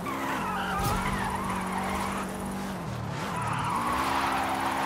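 A car drifts in the Forza Horizon 5 racing game, its tires skidding and squealing continuously over a steady engine drone, loud and close, with the pitch dipping and rising as the slide changes.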